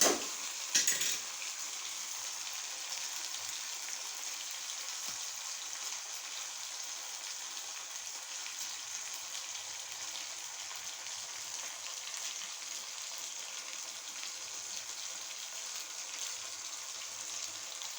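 Food deep-frying fully submerged in hot oil for egg thookku, chicken 65 or fish fry, a steady broadband sizzle holding even throughout, with a brief clatter of utensils at the start.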